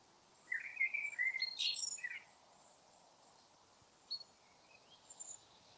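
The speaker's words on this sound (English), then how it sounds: "Blackbird singing away." A blackbird sings outdoors on a walk in a short burst of fluting, warbling phrases, followed by quieter scattered notes and faint insect chirping in the background.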